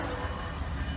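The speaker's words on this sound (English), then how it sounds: "had to wait for the train to go by" Train passing by outdoors, a loud steady low rumble and rolling noise close by, with no talking during the brief passage.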